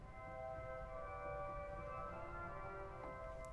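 A concert flute 4-foot stop on a concert hall pipe organ sounds a held chord of bright, breathy tones, steady and moderately loud with no voices over it.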